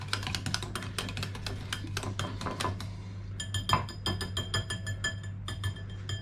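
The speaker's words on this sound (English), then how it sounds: "Can't find my big whisk, I don't know what I've done with it, so I'm stuck with this little one at the moment." Small hand whisk beating keto orange cake batter in a bowl, a quick run of light metallic clinks and taps against the bowl's sides, close and steady with no talking.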